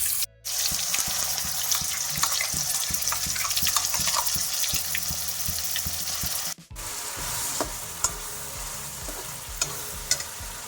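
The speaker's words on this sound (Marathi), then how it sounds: "तेल गरम झालंय तुम्ही पाहू शकता मी आता यात आपला वाटण टाकून घेतो" Onion and grated coconut masala paste hits hot oil in a pan for a mutton curry, giving a loud, steady sizzle with stirring and scraping throughout, broken by two brief gaps, and no voices.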